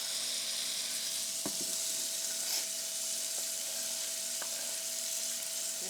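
Onions sizzle and cook down in a pan for Cajun chicken alfredo soup, a steady, moderately loud frying hiss with a few faint utensil clicks and a low background hum.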